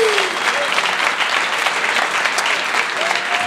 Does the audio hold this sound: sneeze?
no